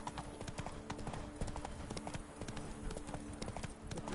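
Horse hooves gallop in The Witcher video game, a fast, steady clip-clop that runs without a break throughout, close and fairly loud.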